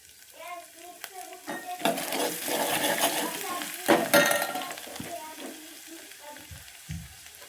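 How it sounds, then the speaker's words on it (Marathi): Maharashtrian amti with coriander frying over a low flame, with a steady close sizzle under stirring, spoon scrapes and a few clinks against the pot, and no voices. "मंद आचेवर फ्राय करूया।"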